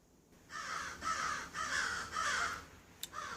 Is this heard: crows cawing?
yes